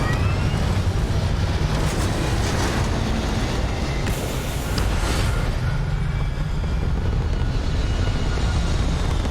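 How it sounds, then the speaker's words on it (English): A spaceship lifts off in the video game Starfield with a loud, steady engine roar and deep rumble that holds throughout, swelling briefly in the middle, with no voices over it. "Liftoff looks good."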